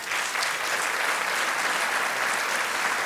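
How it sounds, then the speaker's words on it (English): Steady, dense applause from an audience at a chamber of commerce annual meeting and community award ceremony, continuous clapping that fills the whole stretch without pause. "let's give them a round of applause."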